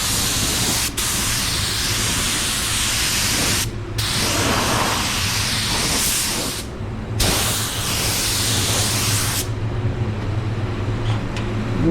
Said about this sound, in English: So I'm spraying at 20 psi.